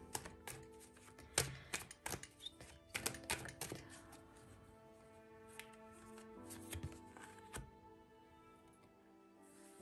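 Tarot cards being drawn and handled at a reading, with soft crisp card flicks and shuffling taps in quick irregular clusters, close and quiet over faint background tones.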